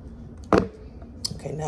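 Scissors snip sewing thread once, a short sharp cut at close range during hand sewing of a tasseled pillow, followed by faint handling noise.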